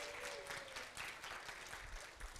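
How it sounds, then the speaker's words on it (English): Audience members at a presentation for Healthy Families of Florida clap for themselves, a faint, even wash of many hands heard from a distance. "can you give yourselves a round of applause"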